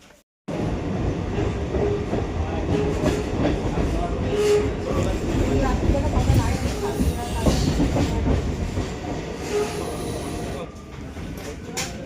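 Passenger train running with steady rumbling and clattering wheels on the rails, continuous and fairly loud for the whole stretch, with faint voices in the carriage beneath the rail noise.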